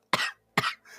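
A man, a character in a fantasy role-play scene set in a shop, gives two harsh, close coughs with a short throat-clearing rasp after them, all within a second.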